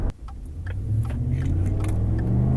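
A big old truck with a stock 5-liter Mustang V8 running E85 launches hard, its engine rising into a deep, steady rumble heard from inside the cab with no voices.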